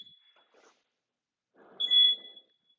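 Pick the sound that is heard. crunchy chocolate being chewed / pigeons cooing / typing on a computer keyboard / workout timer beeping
workout timer beeping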